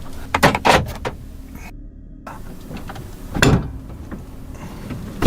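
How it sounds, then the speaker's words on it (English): Camper van door locking by remote, a few close clunks and latch clicks followed by a brief electronic chirp and later another solid thunk, with no talking. "That should lock the van, but I don't think it is."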